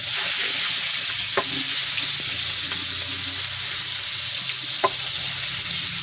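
Chapli kabab sizzles and fries steadily in a hot pan as it is flipped, with a constant loud hiss and a few faint clinks of the spatula, no talk.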